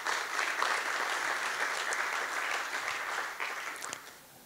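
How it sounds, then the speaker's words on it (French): An audience at a PostgreSQL conference in France applauds the organizing team, a dense, steady wash of clapping that holds for several seconds before thinning and fading out. "je pense qu'on peut les applaudir à nouveau."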